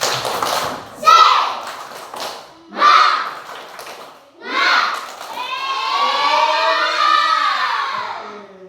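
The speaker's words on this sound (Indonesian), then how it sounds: "Coba tepuk semangat." Schoolchildren in a classroom clap and chant together in loud, rhythmic bursts during a spirit-clap routine, ending in a long, sustained group shout.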